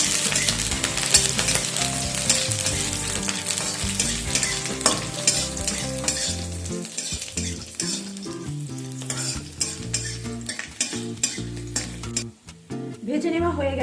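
Garlic cloves and whole dried red chillies frying in hot oil in a pan, a steady dense sizzle running throughout with frequent scraping stirs and clinks of a utensil.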